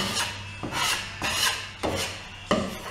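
A drywall knife scrapes joint compound across a drywall surface in repeated rasping strokes, about five long passes in a steady rhythm, close and loud with no talking.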